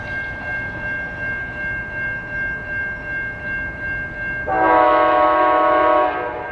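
A Talgo passenger train sits at a station with a steady electrical whine and rumble, then a loud, chord-like horn blast sounds near the end and holds for about two seconds.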